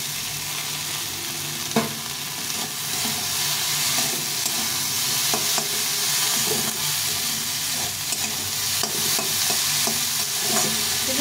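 Okra with onion and green chili frying in a pan, a loud, continuous close sizzle with repeated stirring scrapes over about eleven seconds.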